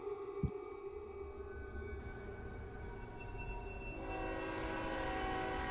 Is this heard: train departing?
yes